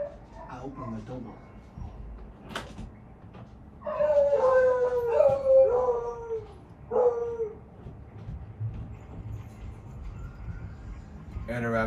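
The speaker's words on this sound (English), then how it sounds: "Those are the dogs." Dogs howling and whimpering indoors in the Half-Life: Alyx VR game, a loud drawn-out wavering howl rising for a few seconds mid-clip with a shorter cry after, over low background murmur and occasional speech.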